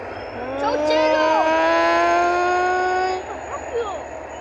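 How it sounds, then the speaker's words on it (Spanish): A GT22 A911 diesel locomotive hauling passenger train 9775 passes at San Justo, its loud tonal engine drone rising, holding for a few seconds, then fading, while people talk nearby. "Tren de pasajeros con destino hacia Edo."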